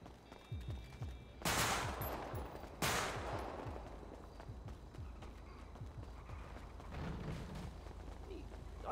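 Two loud, sharp gunshots crack about a second apart amid street ambience, with smaller pops and thuds scattered around them.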